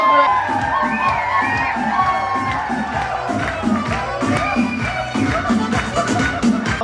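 Crowd at a 50th birthday golden celebration cheering, shouting and whooping for the children, a loud continuous roar of many voices with music-like tonal layers underneath.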